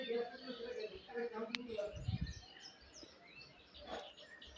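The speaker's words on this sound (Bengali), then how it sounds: "চারিদিকে পাখির কলরব" Birds chirp in scattered, faint calls around a mother goddess temple in a village setting, soft and somewhat distant, with low indistinct voices and outdoor murmur underneath.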